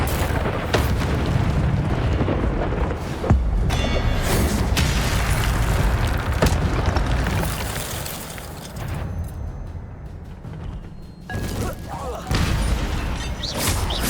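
Incendio fire spell cast in the Hogwarts Legacy video game, heavy booming bursts and fiery roars recurring among other combat noise, loud and close, with a voice speaking over parts of it.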